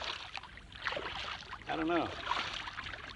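A heavily loaded kayak is paddled on water, with soft swishing paddle strokes and water wash close by while a person briefly speaks.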